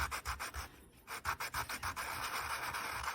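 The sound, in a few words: sanding a polymer clay ring with Abranet P80 abrasive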